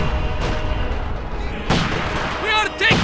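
Enemy gunfire and artillery in Company of Heroes, set at Stalingrad: heavy booms and crackling shots thud over a constant battlefield rumble, with soldiers shouting over the noise.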